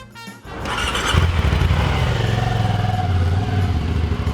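An Aprilia Dorsoduro motorcycle accelerates along Pacific Coast Highway toward Malibu, its engine loud and close, rising into a steady throbbing roar that holds throughout.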